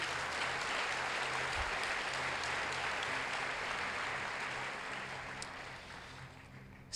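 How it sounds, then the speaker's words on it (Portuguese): A church congregation applauds together in a steady, even wash of clapping that slowly tapers off, with a low hum underneath. "Você pode aplaudir o Senhor Jesus?"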